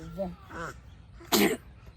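A sharp, forceful sneeze bursts out close by after a couple of short breathy vocal sounds.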